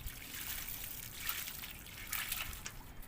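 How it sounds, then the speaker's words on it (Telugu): Water trickles gently onto a watermelon plant in a terrace garden, a faint, steady dribbling with a few louder splashes and no talking. "వాటర్ అయితే ఈరోజు పోస్తాను"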